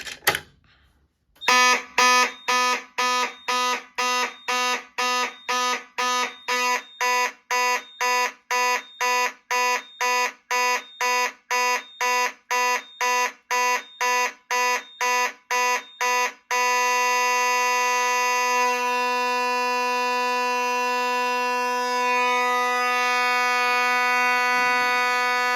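Fire suppression system alarm horns sound during a manual release test, blaring in rapid regular pulses for about fifteen seconds before switching to one loud continuous tone, with no talking.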